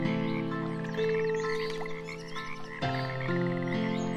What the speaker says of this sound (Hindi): उसने बड़े मेंढक की आवाज सुनी